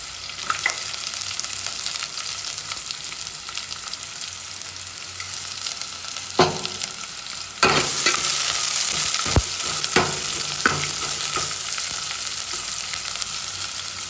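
Mustard seeds, chopped onion and garlic frying in hot oil for a tempering, a steady close sizzle broken by spatula scrapes and stirring knocks, growing louder partway through, with no talk.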